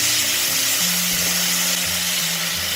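Shrimp stir-frying in a hot pan gives a loud, dense, continuous sizzle heard up close, with a low steady hum beneath it and no talking.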